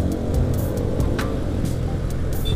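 A Honda Beat scooter strains up a steep, muddy uphill road, its small engine droning steadily and loudly up close with no voices.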